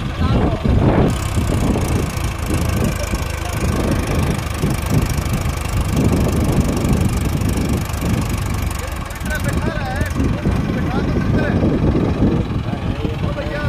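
A tractor stuck in mud with a loaded trolley runs its engine at a rough, steady chug, close and loud, while people talk over the noise throughout.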